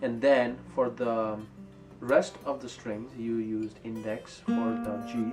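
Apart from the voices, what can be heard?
No everyday noise stands out behind the speech.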